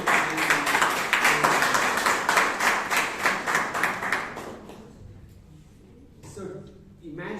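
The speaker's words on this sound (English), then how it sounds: "can we have another round of applause for the tag team" Applause at a Toastmasters club meeting in Bangalore for the tag team, a dense burst of clapping that fades out after about five seconds, then a few scattered sounds and a voice as it dies away.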